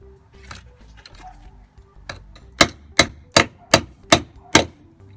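A hammer drives a nail into a corner through a nail-set punch tool: a few soft taps, then six sharp, evenly spaced metallic strikes, loud and close.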